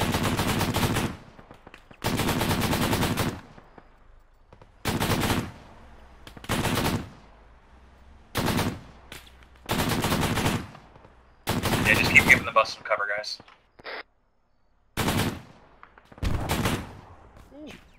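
Rifle and machine-gun fire in the military video game Arma 3 comes in short bursts between stretches of radio-style voice chatter among squad members, and the shots are fairly close and punchy.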